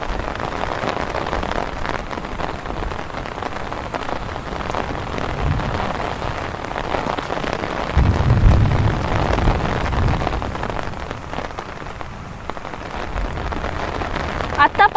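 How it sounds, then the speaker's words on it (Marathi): Heavy rain pours down in Nashik district, a dense continuous hiss of drops on surfaces with a low rumble swelling partway through. "खूप म्हणजे खूप पाऊस चालू आहे आमच्या नाशिक जिल्ह्यामध्ये"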